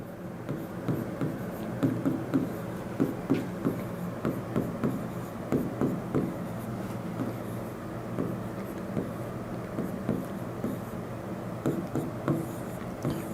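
Pen scratching across paper in quick strokes, a steady run of soft rasping scribbles while numbers are worked out, close and fairly quiet with no talk.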